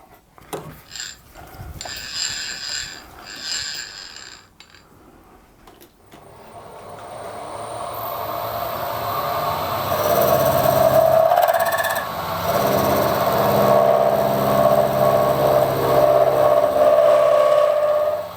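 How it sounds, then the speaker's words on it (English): A milling machine squares the ends of a tube for a DIY gas turbine test stand, a steady, loud mechanical whir and cutting hum that builds after quieter handling clicks at the start. "I'm just going to use a milling machine to square the ends up"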